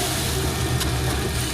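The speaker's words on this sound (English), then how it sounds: "That's the sound of the gigantic rollers directly beneath me." Gigantic rollers mill malted barley beneath the floor at the Heineken brewery in Amsterdam, giving a steady, loud mechanical rumble with a constant low drone and no speech.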